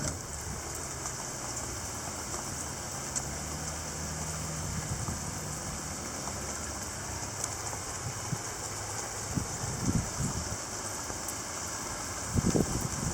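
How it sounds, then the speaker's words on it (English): Heavy spring rain pours down in a steady, dense hiss of drops on surfaces, constant throughout, with occasional louder splashes and thumps near the end and no voices. "Downpour."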